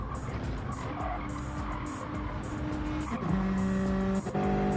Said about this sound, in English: So a roaring V6 there